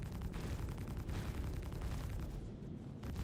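Ship weapons firing in a space combat video game, a rapid stream of dull low booms under a constant rumble, fairly loud, ending in a short lull.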